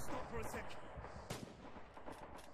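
Distant rumbling gunfire and artillery-like booms from the World War II shooter game Red Orchestra 2, faint and muffled, under someone talking.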